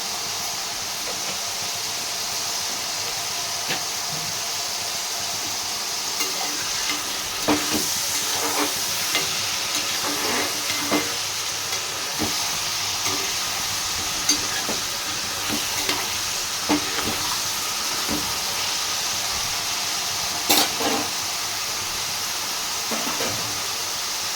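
Paneer pieces fry in a hot pan with fennel seeds, a continuous dense sizzle with scattered pops and the occasional scrape of stirring, close and steady for the whole stretch.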